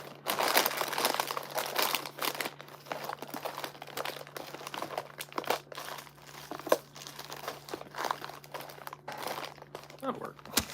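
Plastic or packaging is crinkled and rustled in a garage, with close, continuous crackling and crunching in irregular bursts and a low steady hum underneath.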